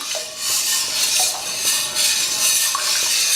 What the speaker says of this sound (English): We're gonna go ahead and add our corn dough. We have to do this slowly and stir at the same time.